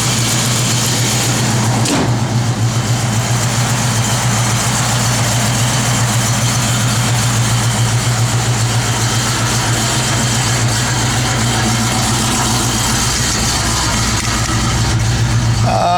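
A 1969 Pontiac Firebird convertible engine idles loud and close, a steady low rumble with an even throb that holds unchanged for the whole stretch, with no one talking over it.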